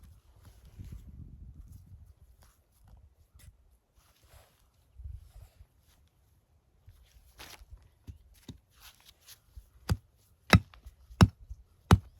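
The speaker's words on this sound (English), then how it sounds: "What I was doing there was driving the stake on down." A trap stake is driven into the ground for a coyote trap set, with soft scuffing and digging at first, then a series of sharp metallic hammer strikes that get louder and more regular toward the end, close by and with no one talking.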